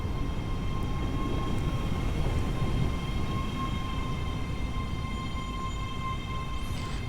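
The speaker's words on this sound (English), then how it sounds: "A train coming in." A train pulls into a station in the Train Sim World 3 game on the ScotRail Express route, a steady loud rumbling roar of the rolling train with a constant high tonal whine above it, unbroken throughout.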